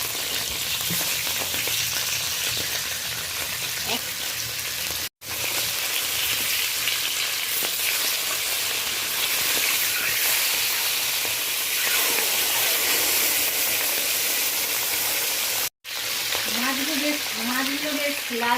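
Fish heads fry in hot mustard oil with a loud, steady, dense sizzle that runs almost continuously, broken by two brief silent gaps, with faint stirring and clattering beneath.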